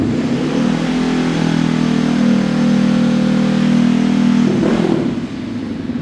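Honda CBR500R motorcycle, a 2020 model with an aftermarket slip-on exhaust, revving hard close up with a loud sustained engine note that drops off sharply near the end.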